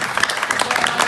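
Wedding guests applaud during a groom's speech, a brief burst of dense, steady clapping that fills the room at close range with no pauses.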